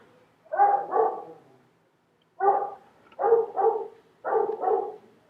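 A dog barks in three bursts of paired woofs, each pair a quick double bark separated by short pauses, fairly close and clear against a quiet indoor background with no talking.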